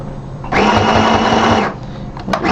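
Sewing machine stitching a fabric bonnet in one loud, steady burst of about a second, then stopping, with handling noise before and after.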